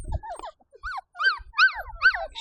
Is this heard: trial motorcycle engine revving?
no